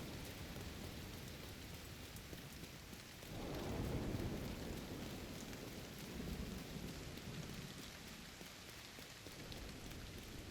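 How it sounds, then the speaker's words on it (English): Heavy rain in the video game The Division 2, a steady, enveloping hiss of downpour with a low rumble of thunder swelling in the middle, fairly quiet overall. "But this is some thick-ass rain with some limited visibility."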